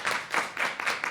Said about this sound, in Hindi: बजाते रहो ताली, बजाते।